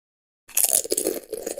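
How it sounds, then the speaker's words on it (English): A crunchy munching sound effect, played back by a homemade computer game program, comes in after a short silence as a quick series of bite-like crunches lasting about a second. "So the playing of the munching sound works."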